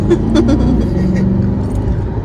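A Chevrolet C8 Corvette launching hard from a standstill under launch control, loud engine roar rising in pitch as it pulls away, heard from inside the car.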